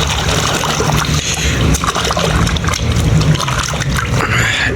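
Water splashing and trickling steadily over a small yellow toy car being washed, a close, continuous pouring sound with no pauses.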